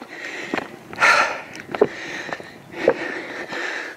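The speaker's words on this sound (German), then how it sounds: "ich bin auch ein bisschen am Schnaufen." A hiker breathes hard on a steep, muddy uphill trail toward Preikestolen in Norway, with several close, audible sniffing and puffing breaths spaced across a few seconds.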